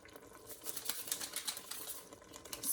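Arroz con pollo bubbling and searing inside a Ninja Foodi pot, a dense stream of quick crackling pops and sizzles at close range, steady and busy throughout with no talking.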